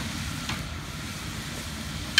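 Onions brown in a big pot of Cajun jambalaya cooked for a fire department fundraiser, giving a faint, steady sizzle with a soft stirring scrape and a sharp clink near the end.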